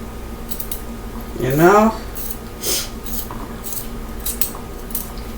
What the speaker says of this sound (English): I'm looking at the green bell pepper. We cutting this whole thing up.